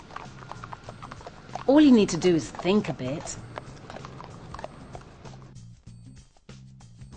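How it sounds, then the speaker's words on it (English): Horse hooves clip-clop steadily on a road, mixed with a passing vehicle and a brief whinny-like tone, while a narrator speaks over them. "When meeting or passing horses, put yourself in the saddle."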